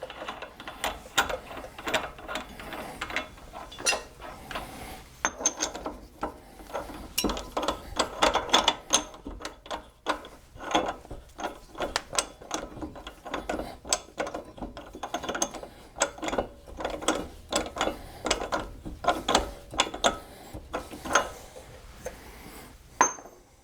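A hand ratchet tightens a hub nut on a Pontiac GXP during a coilover install, its quick clicking strokes coming in irregular bursts close up, with metallic clinks between them over about twenty seconds.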